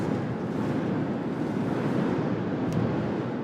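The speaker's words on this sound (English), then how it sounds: "It's windy out here today." Wind blows outdoors in a steady, dull rumbling roar that buffets the microphone continuously, loud and unbroken with no other clear sounds on top.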